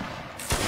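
A musket volley fires in the battle game Mount & Blade: Warband. A single sudden, loud crackling burst comes near the end of a very short moment of background battle noise.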